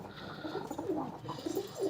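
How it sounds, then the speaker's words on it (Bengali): Pigeons coo softly inside a cage, a few low murmuring calls scattered over faint room noise, without any speech. "আর এই যে বাকি সব পায়রা আমি এখান থেকে দেখে দিচ্ছি।"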